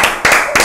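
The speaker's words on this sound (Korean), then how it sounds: "박수 박수." Three quick, loud hand claps ring out close by in a brief rhythmic burst.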